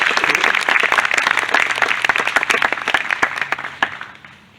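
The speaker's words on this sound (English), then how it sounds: "how about one more round of applause, Ed Mallett" Audience applause at an outdoor summer band concert on the old jail lawn, a steady wash of clapping from a crowd that thins and fades toward the end, with no talking.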